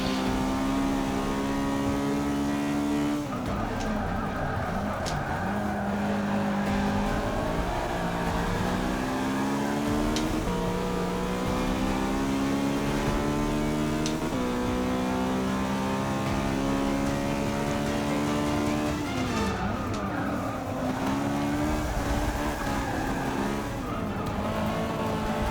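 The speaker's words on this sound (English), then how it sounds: "I will not be able to keep up with these faster cars on the oval bit." Race car engines scream at speed in Forza Motorsport 6 league racing on an oval-and-infield circuit, with a continuous loud drone as revs climb, drop through shifts and climb again, with no talking.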